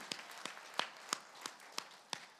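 Clapping in a steady, even beat during a Korean church worship service, sharp hand claps repeating about three times a second, moderately close, with no talking.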